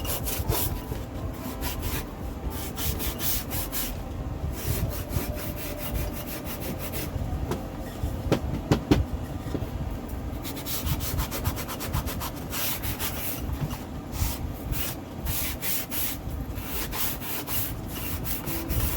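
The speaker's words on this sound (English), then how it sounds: "Sanded the excess spackle off" Sandpaper rubs excess spackle off a surface of mosaic tiles in a continuous, close, scratchy back-and-forth that keeps going without a break.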